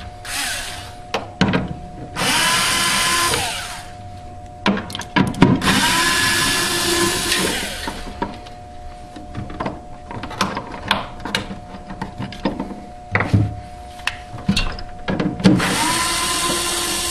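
A power drill runs in several short whirring bursts at close range, removing screws from a refrigerator's evaporator fan motor, with clicks and handling clatter between bursts.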